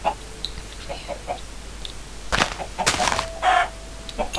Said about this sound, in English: Oh, I heard chicken.